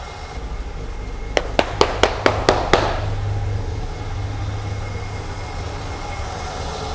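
A BMW E21 323i engine with a leak runs at a steady idle, a low continuous rumble throughout, with a quick run of six sharp metallic clicks or pops near the start.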